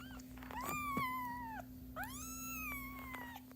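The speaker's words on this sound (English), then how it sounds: "He's had a very squeaky meow the last few days." A cat gives two long, high, squeaky meows one after the other, close and clear over a steady low electrical hum.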